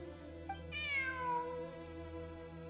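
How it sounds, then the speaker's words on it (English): A cat in the video game Genshin Impact lets out a single drawn-out meow that falls in pitch. It is heard faintly over a soft, sustained musical background. "Look, a cat."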